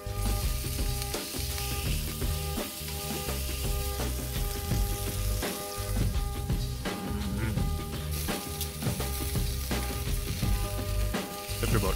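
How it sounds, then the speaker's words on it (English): Loud, steady sizzling of ribeye steak frying in a hot cast iron pan, a continuous crackling hiss that fills the whole stretch without talk. "Listen to that sizzle."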